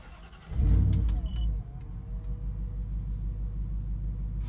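A Velocity Modern Classics Ford Bronco engine cranks briefly and catches right away, then settles into a deep steady idle rumble heard from inside the cab.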